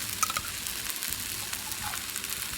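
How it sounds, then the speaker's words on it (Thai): Sea Crown canned fish sizzles in a pan in a broad, continuous crackle, close and steady, with a few small scrapes of stirring and no voices. "เราก็ใส่ปลากระป๋องนะคะวันนี้เราใช้เป็นปลากระป๋องมงกุฎทะเลนะคะ"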